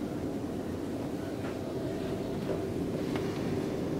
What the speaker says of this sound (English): I can feel the snow coming in this window. That's how hard it's blowing.